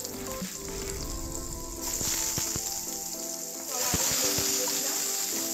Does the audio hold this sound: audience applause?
no